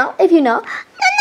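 A pet cat gives a short meow at the end, close and clear, right after someone speaks briefly.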